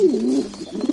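A pigeon gives a soft, low, throaty coo, one short rolling phrase heard up close with no voices over it.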